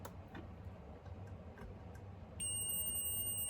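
A continuity tester touched to a model railway track rail gives a steady high-pitched electronic beep that starts partway through and holds to the end, following a few faint clicks over a quiet background.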